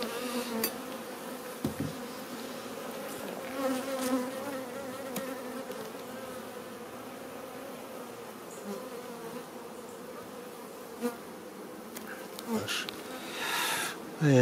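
Honeybees buzz steadily in a dense, droning swarm around hives of newly made colonies, close and continuous, with a few louder passes near the microphone.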